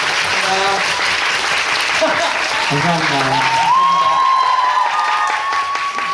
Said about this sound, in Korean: 자 우리 스태프분들 박수 한번 좀 부탁드리면 안 될까요?